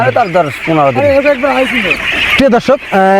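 Ducks on a farm of about two thousand birds quack loudly and close by, with repeated nasal calls overlapping one another in quick bursts.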